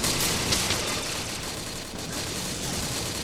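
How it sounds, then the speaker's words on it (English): Bombs drop during a space assault in the Mech Mania video game, a dense, continuous crackle of rapid explosions and gunfire-like bursts, loud and unbroken throughout. "He's dropping the bombs."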